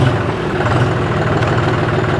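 A John Deere 5050D Gear Pro 4WD tractor engine idles at low rpm with a steady, even diesel rumble and a low throbbing pulse, continuous throughout with no voices.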